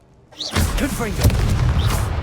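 A Confringo spell blast goes off in Hogwarts Legacy, a sudden loud boom after a near-silent start, with a sustained rumbling, crackling tail lasting under two seconds as a voice speaks over it.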